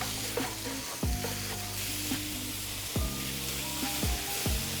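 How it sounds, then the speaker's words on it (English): A pound of ground beef fries in a hot preheated skillet, a steady loud sizzle throughout, with several sharp scraping strokes of a utensil stirring and breaking up the meat, with no talk. "So I'm gonna dump a pound of ground beef in."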